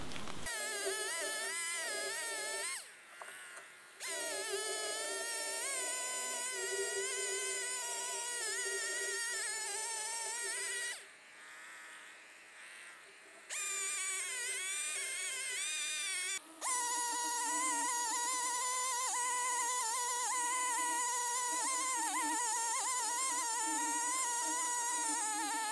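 A chainsaw cuts through a standing log for lumber, its engine a loud, steady high-pitched whine that holds for most of the stretch, dipping briefly twice as the throttle eases, then surging back at full revs.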